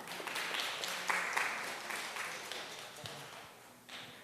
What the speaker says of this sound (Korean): 박수로 환영해 주시기 바랍니다.